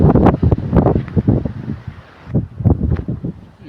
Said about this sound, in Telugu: గాలి కూడా చాలా విపరీతంగా వస్తుంది.